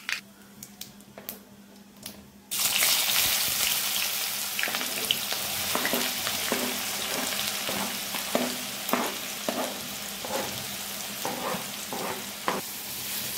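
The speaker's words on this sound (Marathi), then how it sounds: "यात आता आपल्याला घालायचा आहे बारीक चिरलेला कांदा।" Finely chopped onion dropped into hot oil with mustard seeds and cumin, a sudden loud sizzle that continues steadily, broken by the scrape and clack of stirring, with no talking.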